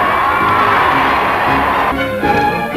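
A Parisian street crowd cheers and shouts along a parade route for a state visit in 1961, a dense, loud wash of voices and whoops with no clear pauses.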